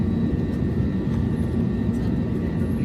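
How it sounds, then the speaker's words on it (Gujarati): An airplane passes overhead near an airport, its broad, steady engine roar filling the air continuously at moderate loudness with no break. "તો કેટલા પ્લેન જતા અહીંયા."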